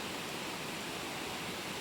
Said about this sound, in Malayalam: നല്ല ശബ്ദമുണ്ട്, വലിയൊരു വെള്ളച്ചാട്ടത്തിൻ്റെ ശബ്ദം തന്നെ ഇവിടെ അടുത്ത് നിൽക്കുമ്പോൾ